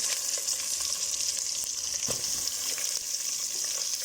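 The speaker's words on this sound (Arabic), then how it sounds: "وراح أضيف البصل، خليه هنا يحمص ويا أو يتشوح ويا اللحم" Onion frying with meat in a cooking pot gives a dense, steady sizzle close up, with occasional faint stirring knocks and no speech over it.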